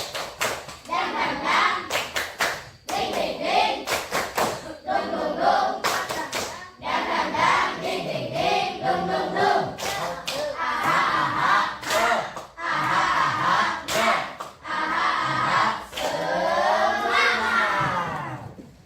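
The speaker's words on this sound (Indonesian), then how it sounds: "tepuk semangat" A school class performs rhythmic spirit clapping in unison, with children shouting and chanting along in bursts; loud, close and continuous, the claps falling in repeated patterned sequences.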